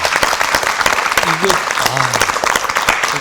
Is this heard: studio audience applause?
yes